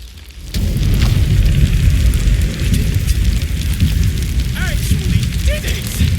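Cannon fire in the video game Baldur's Gate 3: a loud, deep boom that erupts after a brief quiet start and rolls on as a sustained heavy rumble.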